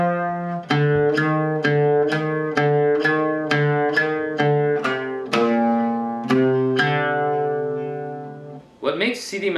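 Oud plays a short melodic phrase from Sidi Mansour, the closing two measures, with about ten plucked notes in a steady rhythm, then a longer held note ringing out, close and clear with no talking.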